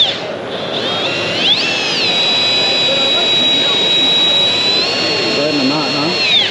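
A power driver spins a screw into wood without a pre-drilled hole, giving a steady high-pitched motor whine that ramps up, holds, then eases off, with a voice speaking over it.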